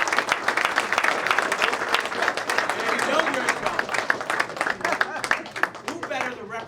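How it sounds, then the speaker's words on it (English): Audience applause at a political campaign launch event for a county council candidate in Camden County, a dense, steady wash of many hands clapping throughout, fairly loud and close, with crowd noise mixed in. "I think all the men here should applaud every single one."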